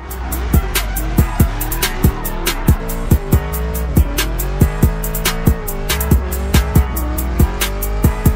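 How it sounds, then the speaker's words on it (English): Giveaway car doing a skid, tires squealing loudly in a long sustained screech with a revving engine and repeated sharp clicks or pops over it, close and prominent. "you got to do a skid for the boys when you get it"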